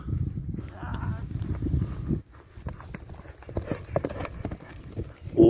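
Horse hooves clip-clop at a horse sale, a steady rhythm of close, hollow knocks running through the whole stretch beneath a muffled background of voices and outdoor noise.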